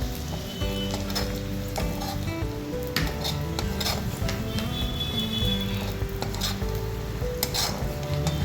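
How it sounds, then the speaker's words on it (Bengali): Onion and green chilli fry in hot oil with a steady, continuous sizzle and crackle, broken by occasional stirring scrapes and clinks of a utensil against the pan, close and alone with no voices. "পেঁয়াজ আর কাঁচা লঙ্কাটাও ভেজে নিতে হবে ভালো করে"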